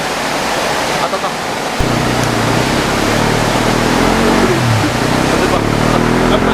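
A 125cc dirt bike engine revving hard on a dyno, a loud steady roar that climbs in pitch after a brief lull, with voices faintly underneath.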